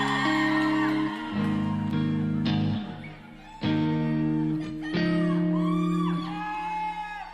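A concert crowd whoops and shouts at a charity benefit show, bursts of cheering in separate waves with pauses between, voiced yells and high whoops standing out over a sustained tonal hum.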